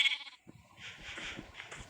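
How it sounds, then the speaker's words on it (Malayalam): A lamb in the Minecraft video game gives a short bleat, followed by quieter game sounds in the background. "എന്താ അത് കുഞ്ഞാടാണ്."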